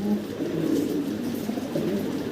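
A pair of German Beauty Homer pigeons coo in a continuous low, throaty warble, soft rolling calls overlapping steadily at close range without pauses.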